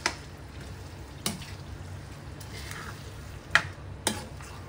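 Boiled vegetables for pav bhaji stirred in a hot pan with a steady sizzle and occasional sharp scrapes and clinks of a spoon against the metal, close and alone.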